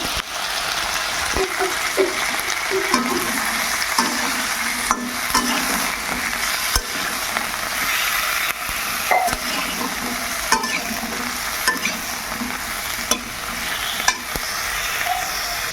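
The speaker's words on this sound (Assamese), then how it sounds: "তাৰপিছত মই মছলা নিদিয়াকৈ ধুনীয়াকৈ ভাজি ল'ম।" Cut vegetables, peas and potatoes fry without spices in a pan for a mixed vegetable curry, making a constant loud sizzle broken by repeated scraping stirs and light clinks.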